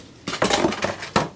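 A drain bowl, apparently plastic or metal, is grabbed and set down under a car's rear differential in a garage, making a quick run of clattering, scraping knocks with a final sharp clunk, close and fairly loud, with no speech.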